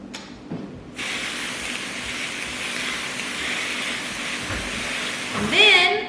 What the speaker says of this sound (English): We're gonna give it one last spray of mist.